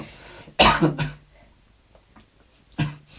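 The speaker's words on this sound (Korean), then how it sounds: "몰라 기침이 나오네" A person's cough in a quiet room, a harsh burst followed by a second shorter one, then a third cough after a pause, close and fairly loud.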